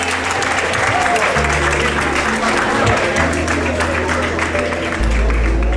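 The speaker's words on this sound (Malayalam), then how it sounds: "എന്നെ ഇത്രയും ഒരു കയ്യടിയോടുകൂടെ ഇവിടേക്ക് കയറ്റി തന്നതിന്" Audience applause rings out in a hall as a female oil and gas student is welcomed onto the stage, a steady dense clapping that fills the whole clip with a low hum underneath.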